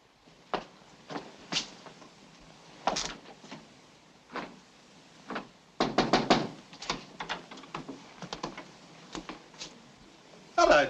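Someone knocks on a door at night, with irregular sharp raps spread out in short clusters and a quicker burst of knocks midway, heard alone at moderate distance.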